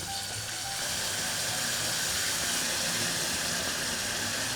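Water added to melting sugar for caramel in a pudding recipe sets off a loud, continuous steam hiss, a dense, even rush that holds steady throughout with no talking.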